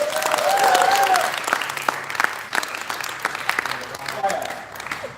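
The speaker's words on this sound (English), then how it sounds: "can we just give Kevin a nice round of applause?" An audience breaks into a warm round of applause for Kevin, dense clapping that swells early and then thins into scattered claps, with a voice sounding briefly over it.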